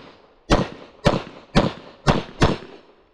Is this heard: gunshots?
yes